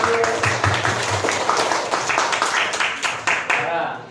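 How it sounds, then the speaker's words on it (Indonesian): A primary school class claps hands together in a classroom, a quick rhythmic run of close, loud claps that slowly fades, with children's voices mixed in. "Ayo tepuk tangan dulu"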